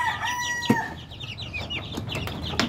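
Ten young chicks recently separated from their mother in a chicken yard, peeping in quick high chirps with a few sharper calls and faint background sounds.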